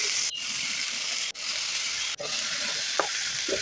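Chopped eggplant sizzles and hisses in a hot pan, with a few sharp stirring scrapes breaking the steady frying noise.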